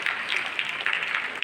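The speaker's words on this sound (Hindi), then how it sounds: "उन महिलाओं से जोरदार तालियों से हम उनकी स्वागत करते हैं" An audience at an International Women's Day event in Dhanbad claps in welcome, a short burst of dense, moderately loud applause.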